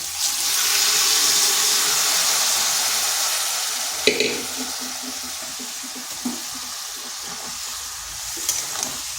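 Shredded cabbage sizzling and hissing steadily in a hot pan as it is sautéed, a loud continuous fry with a few spatula scrapes and knocks toward the end.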